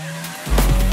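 A car engine fires up and pulls away, a loud low roar rising abruptly midway with a tire squeal over it, no voices.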